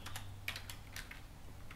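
Typing on a computer keyboard while entering numbers into a running demo program in the Lazarus 4.0 development environment; a short run of light, fairly close clicks in an uneven rhythm, with no talking.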